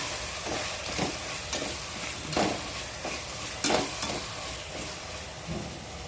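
Bottle gourd and onions sauté with salt in a pan for a spicy kuzhambu. A continuous sizzle is broken by regular bursts of scraping as the spoon stirs, close and moderately loud, with no speech.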